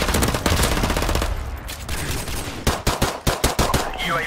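Rapid automatic gunfire from a first-person shooter video game, a dense burst of shots followed by several separate sharp cracks, loud and close, with brief game sounds around it.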